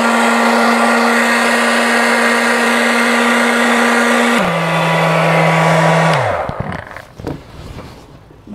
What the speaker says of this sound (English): I'm going to put my hair dryer onto the cold setting